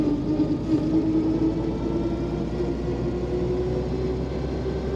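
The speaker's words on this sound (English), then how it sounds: "that slight whine to the transmission, that is supposed to be there." A steady mechanical whine from the transmission of a 1932 Chevrolet Deluxe Coupe rides over a constant low engine drone, continuous and even throughout as the car cruises along.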